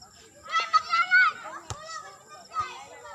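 Children's excited, high-pitched voices ring out outdoors, with squeals and chatter in short bursts and a sharp knock partway through.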